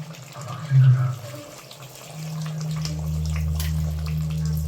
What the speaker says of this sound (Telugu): ఇప్పుడు మనము ఇందులో వాటర్ పోసుకోవాలన్నమాట